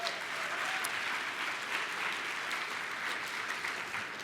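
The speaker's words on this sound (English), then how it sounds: "Give her a round of applause" Broad audience applause fills a closing session of a university diversity forum, a dense, even wash of clapping that holds steady and moderately distant throughout.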